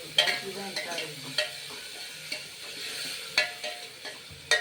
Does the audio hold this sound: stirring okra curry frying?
yes